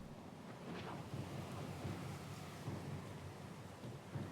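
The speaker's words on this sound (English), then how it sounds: "Storm's pretty loud." Loud storm in the video game Pillars of Eternity II: Deadfire, a steady roar of rain and wind with low rumbling thunder swelling underneath, continuous with no voices.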